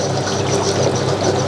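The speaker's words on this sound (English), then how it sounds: "So it is kicking out a little bit of water" Water pours and splashes steadily from a homemade bucket shower (bakki shower) that is being tested, a loud, close, continuous gushing and trickling with no voices over it.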